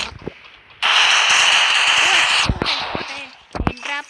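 Gunfire in a shooting video game rings out as one loud, sustained burst of rapid shots lasting under two seconds, followed by quieter sharp pops while a person talks.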